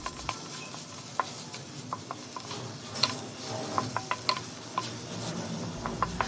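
Miso being stirred in a pot for salmon head sinigang, a series of light scraping and clicking taps of a utensil against the pot at irregular intervals over a soft sizzle.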